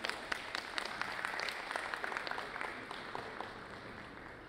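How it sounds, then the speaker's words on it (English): Live-event audience applauds a guest being invited up: dense, steady clapping from a crowd, with sharper individual claps standing out, easing slightly toward the end. "A huge round of applause."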